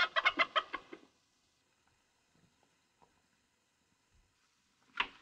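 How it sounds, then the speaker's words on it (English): A rooster in a house, clucking in a quick burst of loud squawks at the start, then near silence, then one more sharp cluck at the end. "I have a hen sitting under the bed, and he likes to peck at her."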